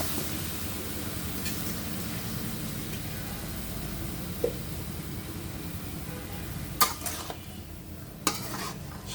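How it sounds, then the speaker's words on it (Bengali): Cauliflower curry with fish stirred in a pan, a soft continuous sizzle and scraping under a low background hum, with a few sharp clinks of a utensil against the pan near the end. "এরপর আমি তরকারিটা ঢেলে দেব।"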